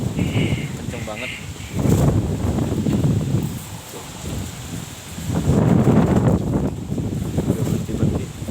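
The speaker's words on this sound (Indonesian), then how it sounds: "Angin yang datang dari timur" Strong easterly wind storm in Jakarta on a hot, clear day, a broad roaring rush that swells and eases in waves, with rustling and microphone buffeting throughout.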